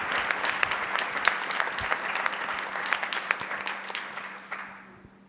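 Audience applause welcoming author Joe Sacco at a live afternoon talk: steady dense clapping from a crowd, sustained for several seconds before tapering off at the end.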